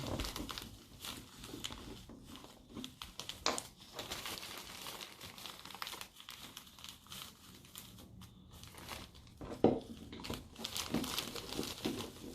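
Soft, continuous crinkling of a sealed plastic bag being squished and kneaded as paint is mixed inside, with steady rustling throughout and a few sharper crinkles near the end.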